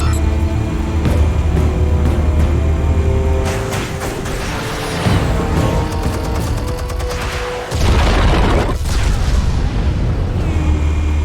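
Explosives detonate in Batman: The Telltale Series, a dense, sustained roar of loud booms and crackling blasts that rumbles on without pause, with a sharp burst of debris near the end.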